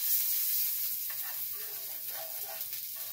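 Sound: sausage frying in a pan

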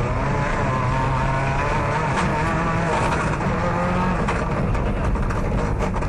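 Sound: Ford Escort rally car on a stage

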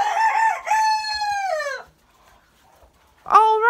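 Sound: rooster crowing

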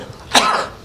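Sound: cough

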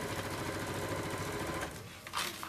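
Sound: sewing machine stitching a thermal lunch bag

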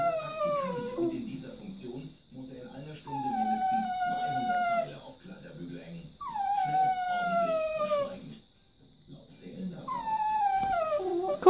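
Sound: dog howling

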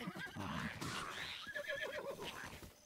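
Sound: horse neighing in Zelda Breath of the Wild video game

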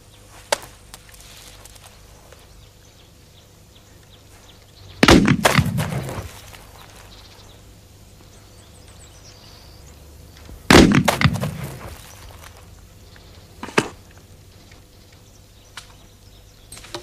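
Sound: gunshots in a film scene

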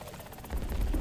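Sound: helicopter engine in War Thunder video game

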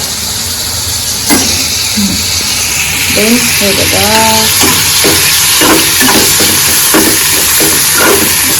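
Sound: mushroom masala simmering in pan

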